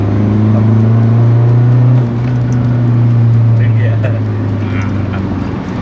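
Tuned car engine at a drag racing garage revving hard and holding a loud steady droning note with a slight drop midway, close up, while someone speaks over it.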